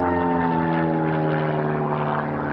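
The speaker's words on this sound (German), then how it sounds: "dass der Looping möglichst rund, kreisrund geflogen wird, so wie der Tobias das jetzt hier gemacht ha" Aerobatic propeller plane flying a loop at the Wesel Airshow 2019, a continuous droning engine roar with steady harmonic hum, fairly loud and sustained throughout.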